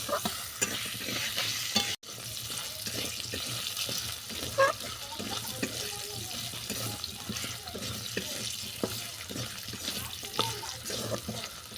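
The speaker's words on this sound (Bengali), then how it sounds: "আলুটাকেও লাল লাল করে ভেজে নেবো" Potatoes fry in a pan for a Bengali fenugreek-leaf vegetable dish, a moderate sizzle broken by repeated scraping and stirring strokes of a spatula, with a sharp knock near the start.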